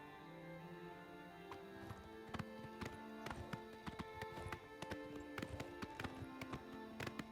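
Horse hooves clip-clopping at a run in the video game Oblivion Remaster, a steady rhythmic pounding of repeated sharp hoof hits over a low game ambience, fairly close and continuous.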